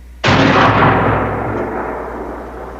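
A single loud gunshot or cannon-like blast goes off close by and booms out into a long fading rumble and reverberation, with no voices.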